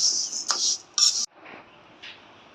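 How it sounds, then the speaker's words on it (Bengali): Dry black gram and mung lentils scrape and rustle across a metal pan in short stirring strokes while dry-roasting, then a quieter stretch with faint shuffling. "মাসকলার ডালটা আর মুগের ডালটা আমি একটু একসাথে ভাইজা নেব"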